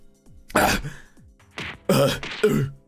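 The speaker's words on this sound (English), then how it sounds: "I start coughing as soon as I hit the ground." A few harsh, throaty coughs and throat-clearing bursts close up, performed by a voice actor, separated by short breathy pauses.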